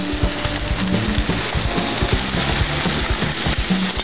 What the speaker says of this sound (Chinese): 然后就可以 煎我的虾仁了。